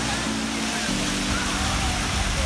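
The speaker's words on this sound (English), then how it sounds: "it's got a waterfall" Water tumbles down a waterfall in a resort pool at Marriott Ko Olina Resort on Oahu, a steady broadband roar with a low hum underneath, and a voice talks briefly over it.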